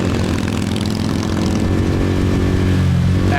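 Motorcycle engine accelerating hard from a light on a Saigon street, a loud continuous engine drone rising through the gears, close and steady with traffic noise underneath.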